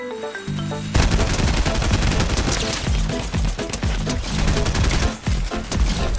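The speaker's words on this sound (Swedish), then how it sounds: "Jag har ju satt upp assault rifles. Då är alltså de här som skjuter." Dense, sustained assault rifle fire in the Fortnite video game, with rapid overlapping bursts from several guns and a brief dip near the end, loud and continuous with no talk over it.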